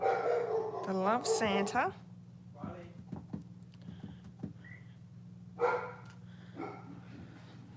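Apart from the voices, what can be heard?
dogs barking at a car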